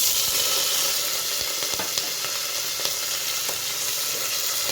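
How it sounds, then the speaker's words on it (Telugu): Loud, continuous sizzling of ginger-garlic paste, green chillies, onions, mint and coriander frying in oil, a steady hiss with faint stirring clicks now and then, close up with no talking. "ఇవన్నీ వేసి కాస్త దూరగా ఫ్రై చేసుకోవాలి"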